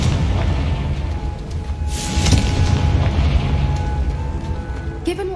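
A spell blast in the game Hogwarts Legacy erupts as a loud, broad boom mid-clip and rolls off over a dense rumbling game soundscape, with a brief sharper burst near the end.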